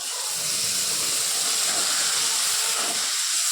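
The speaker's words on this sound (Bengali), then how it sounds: "মশলাটা আমি আগে ভাজলাম না আলু ভেজে ওর মধ্যেই দিয়ে দিলাম" Spice paste added to fried potatoes in a pan gives a loud, continuous hissing sizzle, steady and close throughout with no voices.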